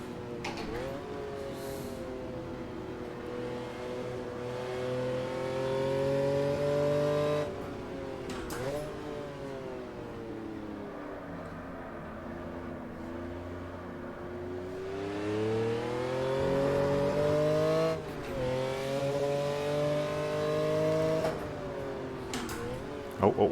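A softly sprung race car driving a very bumpy track in a racing simulator, its engine droning and rising and falling in pitch through shifts and revs, loud and continuous, with a short lull midway.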